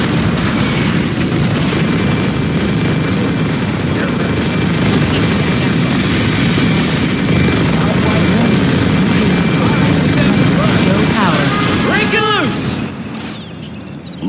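Aircraft roaring overhead in Command & Conquer Generals Zero Hour, a steady loud rumble with booms and explosion-like bursts throughout, under game voice lines, fading near the end.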